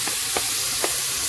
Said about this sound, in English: Now we're going to add our Holy Trinity. Onions, peppers, celery,